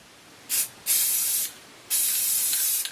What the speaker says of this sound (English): I've got some clear spray here, a gloss. And what I'm going to do is give this a couple coats